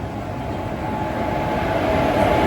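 A passenger train pulls into Shoranur station in Kerala with a steady, dense rumble of wheels and carriages that grows slightly louder, heard from close by with no talking.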